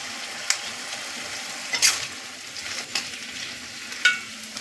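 Potatoes with three slit green chillies fry in a pan, giving a steady close sizzle with a few sharp crackles and spits, and no voices.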